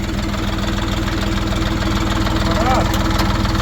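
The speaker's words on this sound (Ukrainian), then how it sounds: "мотор робить ровно" A Kentavr tractor engine runs steadily with an even, low chugging rhythm throughout, loud and close, without pauses.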